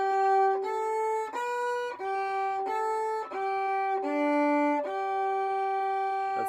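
Solo fiddle plays a short phrase of the tune Driftless Hoedown, about eight clearly bowed notes with bright harmonics in a steady moderate rhythm, close and alone with no talking.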